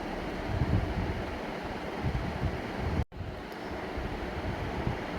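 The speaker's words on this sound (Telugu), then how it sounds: "చూడండి ఉడుకుతుంది, యా బాయిల్ వచ్చేసింది." Semiya payasam, a vermicelli milk pudding, bubbling at a steady boil in a steel pot, a constant rumbling churn with faint splashy noise that briefly cuts out partway through.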